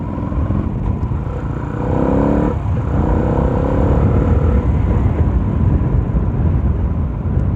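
A Yamaha Sniper 150 motorcycle with a tuned stock engine accelerating hard outdoors: loud, rough engine roar with rising gear-like pitch sweeps partway through, then a sustained buzzing rumble to the end.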